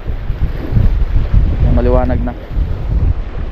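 Strong amihan monsoon wind batters the microphone by the sea near windmills, a loud gusty rumble with a brief voice speaking partway through.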